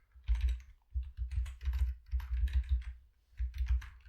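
Code is typed on a computer keyboard in quick bursts of close, crisp key clacks, with two short pauses between runs and no talking.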